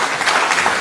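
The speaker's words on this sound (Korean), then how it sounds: "다시 한번 힘찬 박수 부탁드리겠습니다." An audience at the opening of a policy forum on farmers' rights in Korean border regions gives a brief, loud, vigorous round of clapping.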